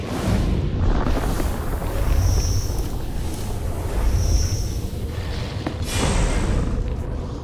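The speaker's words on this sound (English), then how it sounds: "I heard the explosions when you set off the charges" Deep booming explosions from charges rumble through a dense, noisy Star Wars: The Old Republic game soundscape, several heavy blasts rolling in over a constant roar.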